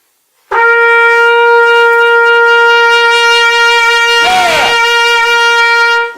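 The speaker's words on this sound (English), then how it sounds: "That's the sound of a trumpet." A single sustained trumpet tone held steadily for several seconds, loud and close, with a brief wavering bend partway through before it settles and cuts off.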